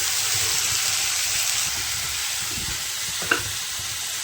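Spice masala for a chickpea curry sizzles and fries in a pan with steady hissing, broken by soft stirring scrapes and a brief sharp clink near the end, with no talking.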